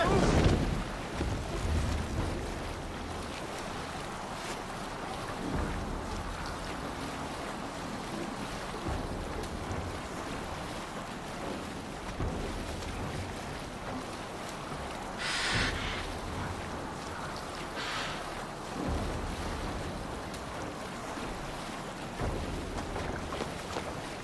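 A longship sails on open sea in Assassin's Creed Valhalla, with continuous rushing waves and wind noise washing under the hull. The steady whoosh has a few brief louder swells and faint background voices.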